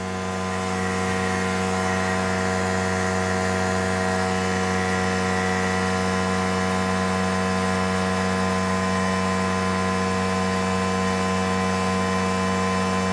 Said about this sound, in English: the air compressor turned on